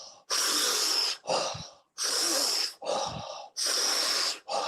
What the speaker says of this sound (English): Really drawing the air in.